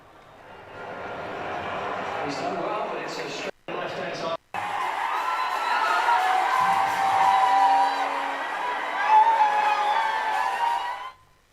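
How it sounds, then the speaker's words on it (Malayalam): A large crowd of Messi fans roars and whoops loudly after an Argentina football win, with sustained cheering and yelling that rises toward the end, briefly cut by two short gaps. "മെസ്സി ആരാധകരുടെ കാതടപ്പിക്കുന്ന ആരവങ്ങൾ ഉയർന്നു"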